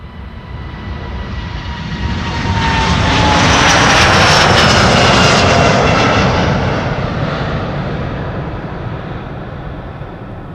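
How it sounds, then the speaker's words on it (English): A Delta Air Lines Airbus A330neo jet departs Schiphol, its engine roar swelling to a loud peak midway and then easing off while staying strong, with no voices over it. "This is Delta Airlines flight 137 and A330 Neo to Detroit, Michigan."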